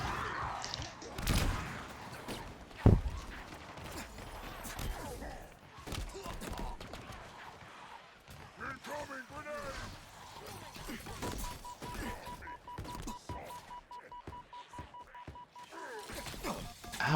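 Dynamo grenades detonating in a Halo Forge custom match, a cluster of sharp bursts near the start followed by scattered thuds and crackles, with a steady electronic tone in the later stretch.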